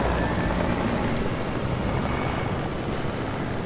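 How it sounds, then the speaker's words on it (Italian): A helicopter in Fortnite makes a loud, steady whirring roar of spinning rotors that stays close and constant throughout, with no voices over it. "Prendiamo l'elicottero e cioppa"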